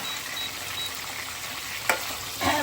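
Pointed gourd and papaya fry in hot oil with a steady, close sizzle, broken by a sharp clink of a utensil and a brief stir that swells the hiss near the end.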